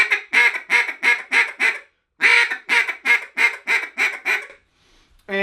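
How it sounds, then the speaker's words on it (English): A duck call blows a bouncing hen sequence of rapid quacks, each clipped with a hard tongue stop, in two runs of about seven notes separated by a short pause. The calls are loud and near, with no voice over them. "we're going to do our standard like 5-note greeting call, but we're going to put a T sound at the end of each one of those"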